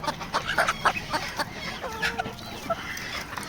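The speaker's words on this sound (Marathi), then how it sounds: "तुम्ही बघू शकता इथे कोंबड्या किती आवडीने आजोला खातात" Several hens feed on azolla in a poultry setup, giving off soft, irregular clucks and short calls close by over a busy farmyard background, with no talking.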